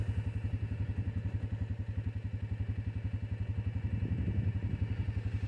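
A Suzuki KingQuad 750 ATV fitted with snow tracks grinds through stiff, crusted snow, its engine thumping in a fast, even rhythm up close with clattering from the tracks, and no voices.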